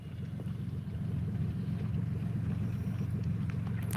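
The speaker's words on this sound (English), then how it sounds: "Go get a muffler, Mr. Ford Ranger. 1998 ish." A 1998 Ford Ranger with no muffler rumbles past outdoors, a rough, pulsing low exhaust drone holding steady at moderate distance, with wind noise over the microphone.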